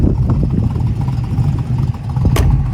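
A 1970 Ford Mustang coupe with a 302 V8 and automatic transmission idles steadily nearby, a continuous low rumble that stays even throughout, with one brief sharp click near the end.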